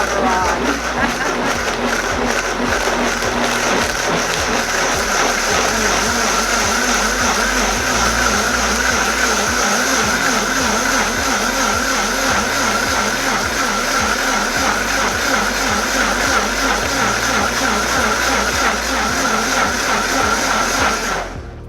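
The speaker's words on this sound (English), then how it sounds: "just to give the blender some time to do its job" A covered blender runs continuously on high speed, blending sea moss into gel with a loud, steady motor whine and churning for over twenty seconds.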